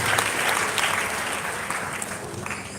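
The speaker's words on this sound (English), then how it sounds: "let's give her a sounding round of applause" Sustained, dense applause from an audience at a live event, a steady wash of many hands clapping at once that fades slightly toward the end.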